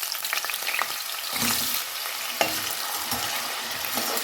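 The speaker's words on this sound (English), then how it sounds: "Fry this till they are light golden in color" Diced potatoes fry in smoking-hot mustard oil, a steady, fairly loud sizzle with occasional stirring scrapes and a sharp clack near the middle, with no voices.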